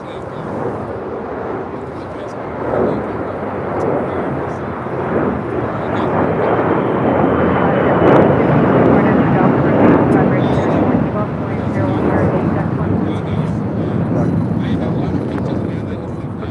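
An airliner taking off from a runway at LAX, a broad, deep jet roar that builds and swells to a peak midway before easing slightly, with a voice talking over it.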